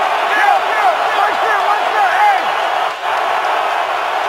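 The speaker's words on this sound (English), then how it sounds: "this crowd is very lively at the start of this one" A lively stadium crowd roars at a Cowboys home game against the Colts, a broad, steady wash of distant cheering and whistles with faint whoops, under a close commentator's voice.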